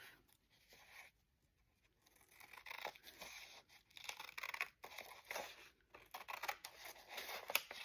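Scissors trimming folded old book pages, quiet close snips and crisp paper rustling with soft slicing cuts over a few seconds, no talking.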